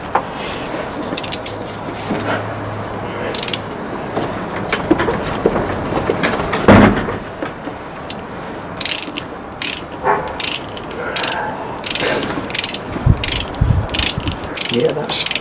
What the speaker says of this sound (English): We'll drive that right down through it and clean that thread up.